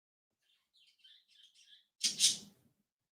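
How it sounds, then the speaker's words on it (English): Winter birds chirp outside in the snow: a quiet run of short, high tweets comes in small bursts, followed by a brief louder rustling burst near the end. "All the winter birds were out playing in the snow here, and Cleo got jealous today."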